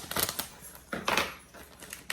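Several short scraping, crinkly cuts in quick bursts, like a blade slicing through plastic packaging, close by with no talking.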